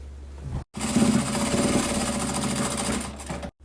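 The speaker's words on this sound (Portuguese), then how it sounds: "vai passar uma costurinha aqui, aquela costurinha de segurança só para estabilizar." A sewing machine stitches fabric up close in a steady, fast mechanical whir, starting after a brief pause, running continuously for about three seconds and then stopping.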